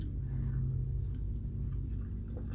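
Someone chewing a mouthful of mushroom curry close to the mic, with soft, wet mastication sounds running steadily over a constant low rumble of background noise.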